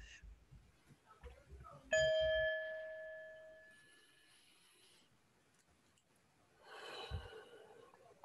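A singing bowl bell is struck once during a community forum, giving a clear ringing tone that fades slowly over a couple of seconds amid soft breathing and quiet room noise.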